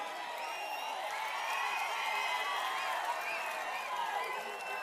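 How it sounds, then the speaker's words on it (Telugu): A political rally crowd applauds and cheers in sustained, even clapping that fills the space without pause, a broad wash of hands at moderate loudness with no single voice standing out. "గట్టిగా చప్పట్లు కొట్టి మేమందరం ఓట్లేస్తామని."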